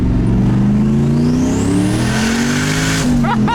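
Nissan Cefiro with a K-swapped engine accelerating hard, the engine note climbing steadily through the revs with a sharp rise near the end, loud and close from inside the car.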